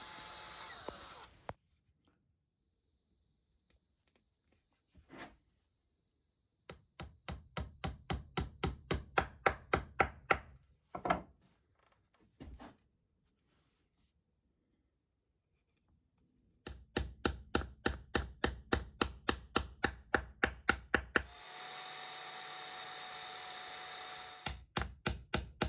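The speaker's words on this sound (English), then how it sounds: "I can now drill multiple holes at once and finish driving the remainder of the 9" Holes being drilled and pins driven into a lathe-turned base plug on a horn body, bursts of rapid regular tapping and whirring separated by silent pauses and a few isolated knocks, close and fairly loud, no voices.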